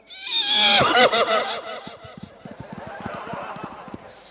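A stage comedy performer imitates a horse with a loud, wavering vocal neigh that sinks into breathy snorts and puffs, close to the microphone.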